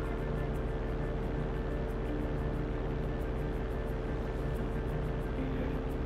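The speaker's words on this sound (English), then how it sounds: "Flying a plane." Steady droning propeller airplane engine in a video game flight, a continuous even hum with no talking.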